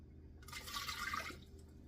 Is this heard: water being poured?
yes